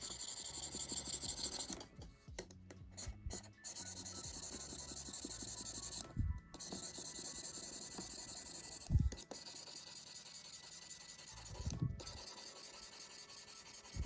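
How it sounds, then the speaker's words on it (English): A stylus with its default plastic nib scratches across the screen protector of an Artisul D22S pen display, giving a steady close-up rasping scrawl broken by brief pauses and a few soft low taps. "With a packed-in stylus and default plastic nib, you'll hear lots of sketchy, scratchy sounds while you're working."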